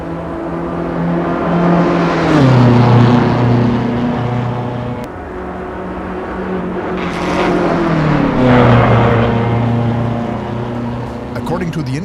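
BMW M4 GT3 race car engine at Spa in the Assetto Corsa EVO racing game, loud and steady, rising through two revving pulls with gear-shift drops around them, a voice talking over it.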